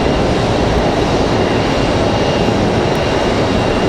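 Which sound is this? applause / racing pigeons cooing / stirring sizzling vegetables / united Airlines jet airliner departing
united Airlines jet airliner departing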